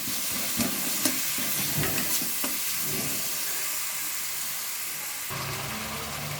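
A special spice masala being stir-fried in a pan, a continuous close sizzle with scraping spatula strokes in the first few seconds, then a steadier hiss.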